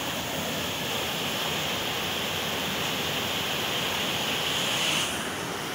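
Water rushing through an opened sluice gate at the Carpina dam (Lagoa do Carro), a dense steady roar of torrent close by, continuous and loud with no break.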